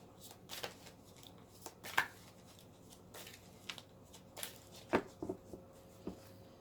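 Oracle cards being shuffled by hand during a reading, heard as a few soft, scattered riffles and taps at close range, quiet overall with brief sharper flicks between pauses.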